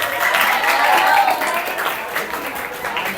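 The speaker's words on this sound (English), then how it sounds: "Clap for him." Classroom clapping as students applaud a classmate, a dense, fairly loud burst of many hands that holds steady for a few seconds, with voices mixed in.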